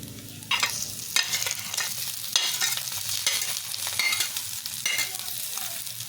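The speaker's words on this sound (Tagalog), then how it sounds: "Haluin natin." Corned beef sisig with fried egg being stirred in a hot pan, with repeated scraping strokes of a utensil every second or so over a steady sizzle of frying.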